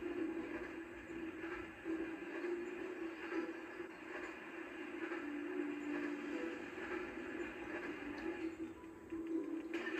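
A train rumbles past in the video game Phineas and Ferb: Across the 2nd Dimension with a steady low droning hum and rattling, continuous and fairly even throughout, with no voices.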